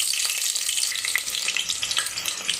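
Mustard seeds, cumin and chopped onion hit hot oil in a pan, giving a continuous bright sizzle with quick, irregular crackles and pops close by.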